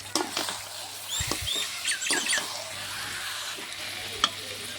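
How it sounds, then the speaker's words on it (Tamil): Chicken being stirred in a pan for spicy pepper chicken gravy, giving soft scraping and light sizzling with a few clinks, fairly quiet and close, with no talking. "நல்லா சிக்கனை கிளறி விடலாம்."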